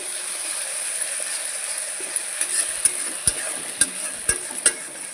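Masala frying in a pan gives a steady high sizzle, joined toward the end by a run of sharp rhythmic clicks and knocks, close by and without voices.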